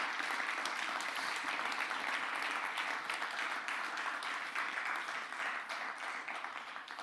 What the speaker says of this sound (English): So quick round of applause for all of you for building.